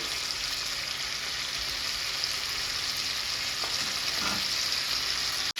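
Chicken masala frying in a pan over a high flame, a loud, steady sizzle and crackle filling the whole stretch, with a faint stir scrape near the end.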